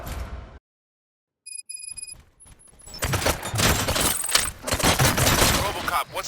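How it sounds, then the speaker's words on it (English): Gunfire in the RoboCop: Rogue City video game erupts as a dense, loud burst of shots and crashing impacts after a few sharp beeps and a brief quiet gap, continuing as heavy sustained noise to the end. "Gunshots? What's going on?"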